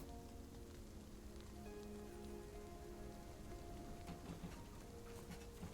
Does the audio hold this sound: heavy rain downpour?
yes